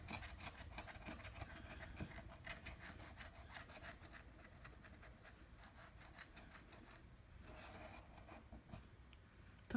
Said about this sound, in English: A lot of scratching on this ticket makes a big mess.